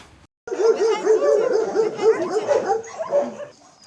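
Dogs rescued from Kherson bark and yip together in a loud, dense chorus, with rapid overlapping barks close by for about three seconds after a brief silence.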